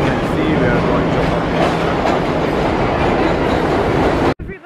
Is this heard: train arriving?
yes